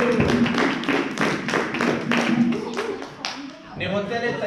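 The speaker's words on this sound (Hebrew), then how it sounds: "מחיאות כפיים חזקות לסריום" An audience at a martial arts belt ceremony claps for a student receiving her three-colour belt, rapid rhythmic claps close by, with a voice speaking underneath as the applause tails off.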